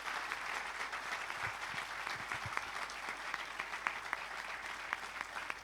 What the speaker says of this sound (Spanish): El aplauso nuevamente y además lo hacemos extensivo